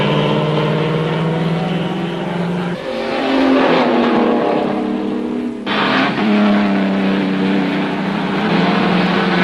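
Vintage and historic racing cars drive past at a racetrack, their loud engines droning steadily with shifting pitch as they accelerate and pass, with no speech.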